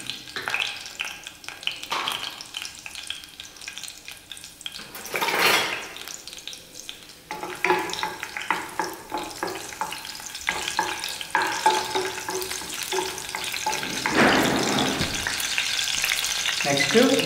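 Green chilies fry in hot oil in a home kitchen pan, a loud steady sizzle with stirring scrapes and brief bursts of louder crackle, no talking.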